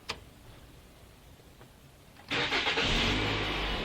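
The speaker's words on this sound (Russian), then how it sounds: "Вот, двигатель завелся." A car with an immobilizer installed starts up: a few faint clicks of cranking, then the engine catches and settles into a steady, close idle.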